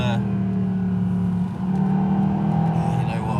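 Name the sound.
Mercedes SLS AMG car engine revving on track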